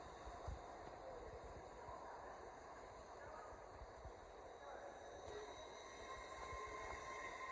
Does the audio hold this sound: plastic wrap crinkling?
no